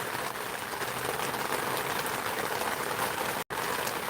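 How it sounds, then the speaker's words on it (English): Steady rain pouring down outdoors in Upper Darby, a dense, even hiss that continues without a break apart from one brief dropout near the end. "as you can hear, the rain is coming down, and I need to get inside"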